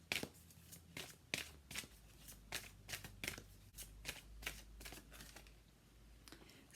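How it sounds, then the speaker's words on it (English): Romance angel oracle cards being shuffled, with a quick run of crisp riffling flutters and soft slaps repeating close up, no talking. "So let's pull in a romance angel card or two."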